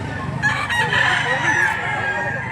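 Roosters crow over a busy livestock auction market in Lipa City, Batangas, with several overlapping calls and steady crowd noise underneath.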